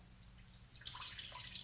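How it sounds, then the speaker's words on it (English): A quart of water poured into a pot: faint drips at first, then a brighter, steady splashing pour begins about halfway through and continues to the end. "Then I'm gonna add a quart of water."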